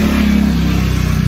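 A scooter passes close by on a street along the historic Tokaido route in Japan, its buzzing engine loud and steady over a brief moment with no voices.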